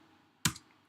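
A single sharp keypress as the Enter key is struck on a computer keyboard, one crisp click standing alone against a quiet room.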